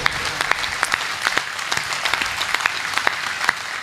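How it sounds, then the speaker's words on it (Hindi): Audience applause at a Hindi poetry recital, with dense, continuous clapping from a sizeable crowd and individual sharp claps standing out near the front. "तालियां उठाओ तो ऐसी उठाओ कि आपका जोश मुझ तक पहुंचे"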